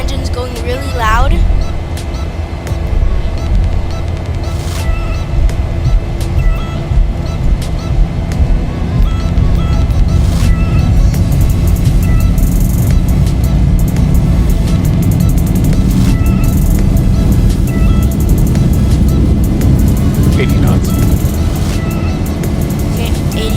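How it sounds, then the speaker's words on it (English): Aircraft engines at full takeoff power in the X-Plane 11 flight simulator, a loud, steady roaring drone that holds for the whole stretch, with a voice talking over it at times. "You can hear the engines going"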